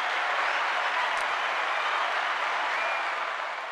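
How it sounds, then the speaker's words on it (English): An audience breaks into steady, dense applause, many hands clapping continuously at an even level throughout, with no talking over it. "Can we just give a round of applause?"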